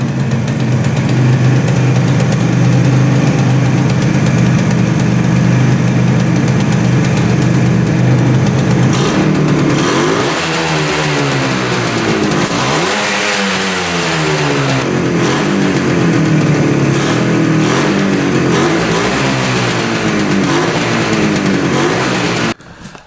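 A 500cc two-stroke twin-carburetor motorcycle engine, revived after sitting 22 years, runs loud and close, idling raggedly before a series of revs rise and fall, then cuts off at the end.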